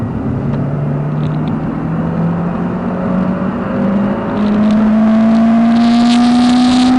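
A Honda Civic EP3 Type R with a loud aftermarket exhaust drones steadily from inside the cabin, its engine pitch climbing gradually under acceleration and growing louder toward the end.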